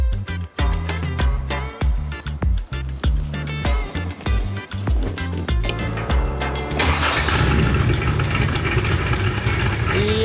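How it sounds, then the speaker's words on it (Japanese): A Contemporary Cobra replica's engine cranks in rapid rhythmic pulses, then catches at about seven seconds and settles into a loud, rich, steady idle close by, with no talk over it. "じゃあエンジンをかけていただいて、"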